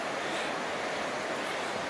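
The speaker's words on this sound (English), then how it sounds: "There is the East Fork River." The East Fork River rushes below a railway bridge in a steady, loud broadband roar of flowing water that stays constant throughout, with no voices.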